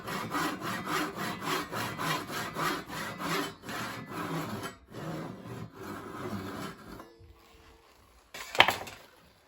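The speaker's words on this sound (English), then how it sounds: "I'm just making a shoulder cut, and then I'm going to chisel this little section out here" Hand saw cutting a shoulder cut in wood for a half dovetail joint in a woodworking shop. Close, rhythmic rasping strokes run for several seconds, then slow and stop, followed by a short knock near the end.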